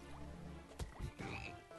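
A cartoonish frog croaks a few times in the video game BattleBlock Theater, short throaty blips over game music and effects.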